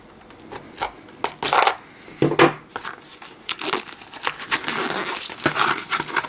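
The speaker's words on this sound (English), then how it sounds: "We'll get the cellophane off the box and I'll show you what it's like." Cellophane wrapping is peeled and torn off the box of an Aukey mini RGB LED light, giving close, irregular crackles and crinkles in bursts that turn into a denser, steady rustle toward the end.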